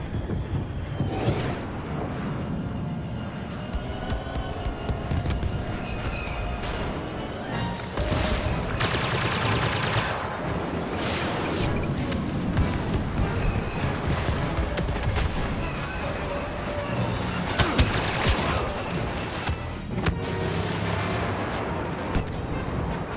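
Dense battle din from Star Wars Battlefront: sustained blaster and gunfire volleys with heavy airstrike booms and explosions rolling throughout, loud and continuous with no talk.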